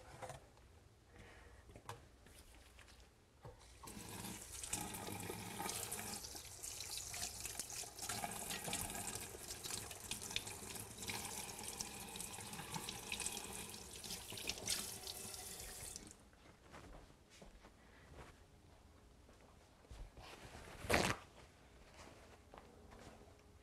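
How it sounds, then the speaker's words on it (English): Water runs steadily from a kitchen tap into a sink while hands are washed beneath it. The hiss swells for about ten seconds, then drops back to quieter handling noises and a single sharp knock near the end. "Let me wash my hands."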